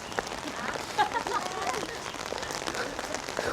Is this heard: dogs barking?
no